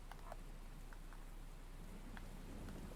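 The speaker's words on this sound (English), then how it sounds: "it's raining pretty heavily" Steady heavy rain in the video game Heavy Rain, a dense even hiss of falling water with scattered drop patter, holding at constant level throughout without pause.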